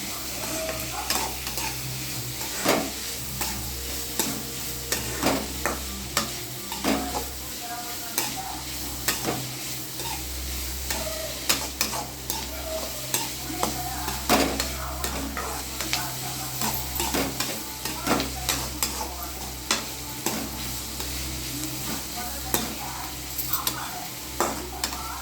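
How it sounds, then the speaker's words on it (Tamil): Beans and carrots with tomato and onion sauté in a pan, giving a soft continuous sizzle with frequent scraping stirs and light utensil taps, a low hum beneath. "இப்போ நான் ரெண்டும் போட்டு நான் வதக்கிறேன்."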